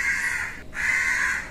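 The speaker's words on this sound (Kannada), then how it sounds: "ತುಂಬಾ ಜೋರಾಗಿ ಕಾಗೆ ಕೂಗ್ತಾ ಇದೆ" A crow caws loudly and close by: two long, harsh, drawn-out calls separated by a brief pause, with no voices.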